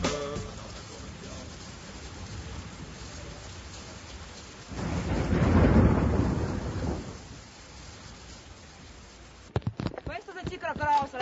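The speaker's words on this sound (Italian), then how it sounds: "Piove, senti come piove, Madonna come piove, senti come viene giù." Heavy rain pours down during a thunderstorm at a cyclocross race in Laives, with a steady hiss of downpour swelling into a deep rolling rumble of thunder midway, then easing before a clatter of sharper knocks near the end.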